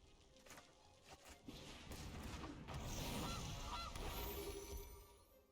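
A goose honks inside a Magic: The Gathering digital card game match, a few quiet nasal honks rising over soft game sounds with a muffled thud, no talking.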